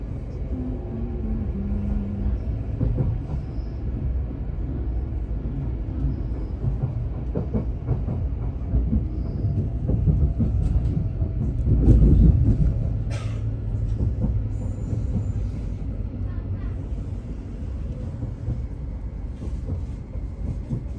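A train bound for London Bridge rumbles steadily along the rails, a deep continuous roar with faint rhythmic clatter that swells briefly midway, with no voices.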